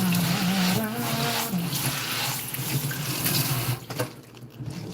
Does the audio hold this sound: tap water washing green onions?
yes